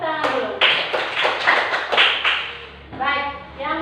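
Students in a classroom clap their hands in a few loud, rhythmic bursts close by, mixed with voices talking and calling out between and under the claps.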